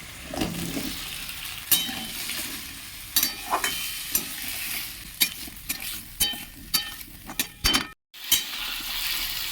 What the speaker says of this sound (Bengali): মশলার সঙ্গে আলুগুলো কষে নেব।